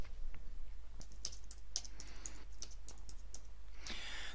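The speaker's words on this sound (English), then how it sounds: "Carry on typing." Typing on a computer keyboard: a fairly quick, uneven run of light clicks and taps, close and faint, with no talking.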